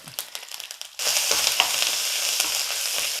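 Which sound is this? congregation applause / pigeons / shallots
shallots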